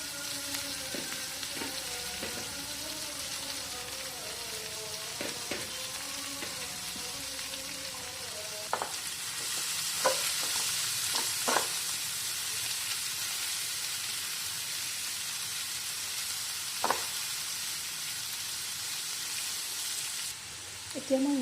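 Chopped banana flower goes into hot oil with lightly browned onion in a pan, a steady frying hiss swelling louder partway through, with occasional scraping stirs and a voice talking softly in the first seconds.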